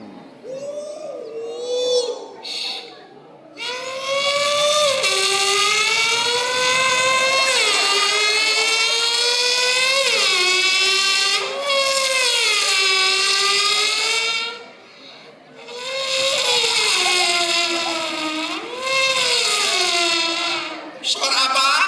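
A voice imitates a Formula One racing car, a loud, sustained whining engine note rising and falling through several long gear-shift sweeps with brief pauses, performed for a school audience.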